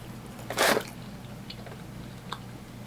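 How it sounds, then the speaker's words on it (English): A bite into a Mochinut mochi donut topped with white chocolate makes one brief, close crunch, followed by faint quiet mouth sounds. "I'm gonna bite this one because I got the little white chocolate on here."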